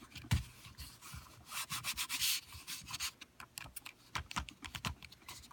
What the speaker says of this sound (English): I'm just going to rub the back of this.